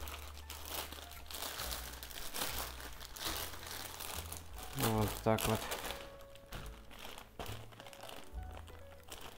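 Plastic food bag crinkling and rustling as a marinated duck is put into it, with a short burst of louder crinkles midway; a voice speaks briefly over it.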